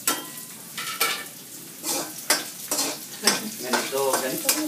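Onions hit a pan of frying garlic with a loud sizzle, followed by bursts of stirring and scraping in an irregular rhythm, close up and free of talk.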